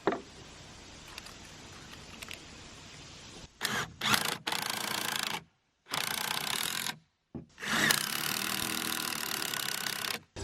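Cordless power drill driving screws into wooden boards while building a playhouse wall frame, heard as several loud whirring bursts of a few seconds each, separated by short pauses, over a quiet background.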